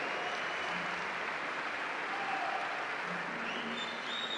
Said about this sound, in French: Merci d'applaudir ces deux partenaires historiques du tournoi des internationaux